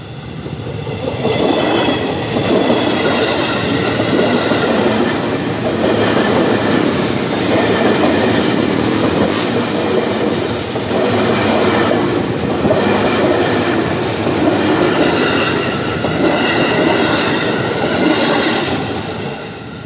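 A KRL commuter electric train runs on straight double track near Citeras station on the Rangkasbitung line, its steady loud rumble and wheel noise continuous throughout, with faint squeals and clatter over the rail joints.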